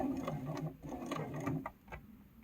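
A sewing machine stitches a chevron table runner in short, close mechanical bursts of whirring and clicking, pausing briefly near the end.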